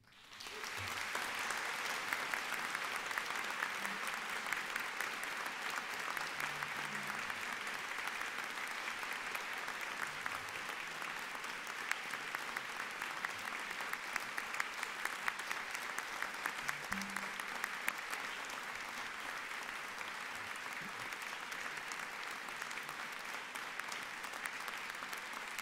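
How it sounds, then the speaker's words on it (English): Sustained, even applause fills Chapin Hall as Williams College inducts its 18th president, a large seated crowd clapping continuously for over twenty seconds at moderate distance. "My notes here say applause"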